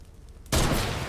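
A sudden, loud burst of rapid gunfire in the Fortnite video game cuts in after a quiet moment and carries on as a dense rattle.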